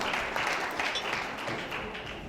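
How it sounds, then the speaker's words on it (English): An audience at a video book launch in Abuja applauds with steady, dense clapping that holds at an even level for a couple of seconds. "That applause is too kwashoko, it's too anemic."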